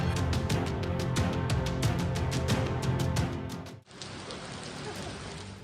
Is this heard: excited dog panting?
no